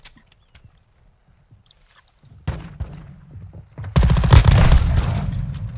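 Gunfire from a weapon in Call of Duty: Modern Warfare 2, starting with faint scattered shots, then a loud dense burst of rapid fire filling the last two seconds.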